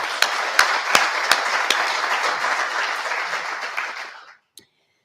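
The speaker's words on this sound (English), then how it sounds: "I want to offer you one more round of applause." Applause from a large crowd at a Vice President Harris speech on conflict-related sexual violence, steady and full, fading out near the end with a last lone clap.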